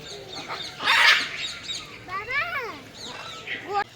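Birds chirp and call at Chittagong Zoo, with a few rising and falling whistled notes mixed into a busy outdoor scene where nearby children and adults talk over them.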